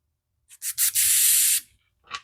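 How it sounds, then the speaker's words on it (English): Air is blown hard through a Coleman 200 lantern gas jet to clear its small side holes: a few short puffs, then a sustained close breathy hiss lasting about half a second, followed by another brief puff. "Now I'm going to blow through this, covering this end, to clear all these little holes on the side."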